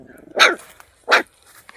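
A nearby dog lets out two sharp, loud barks about a second apart, each short and gruff, against an otherwise quiet background.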